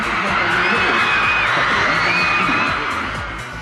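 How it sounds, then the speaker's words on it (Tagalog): Fans screaming and cheering at a mall show in Tagum City, a dense, loud wall of high-pitched shouts and whoops that swells and then fades slightly toward the end. "Sinalubong ng malakas na hiyawan ang cast ng inaabang ng Telefantasia paglabas nila sa stage."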